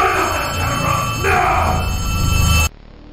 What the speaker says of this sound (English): Obviously, this phone we hear is important enough to not want to be documented by Dr. Sawyer.